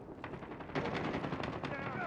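Call of Duty gameplay gunfire: rapid bursts of automatic weapon shots crackle through a short stretch of battle noise, fairly compact and sharp.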